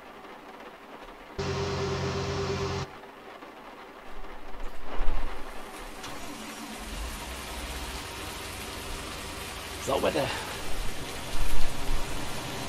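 Heavy rain in Farming Simulator 19 as a steady hiss of downpour, with a louder rushing burst early on and a few thumps and clatters scattered through it.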